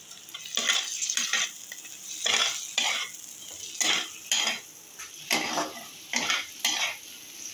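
Fish fries in a pan while a utensil stirs it, a rhythmic series of scraping, clinking strokes over a low sizzle, close and fairly loud, with no talking.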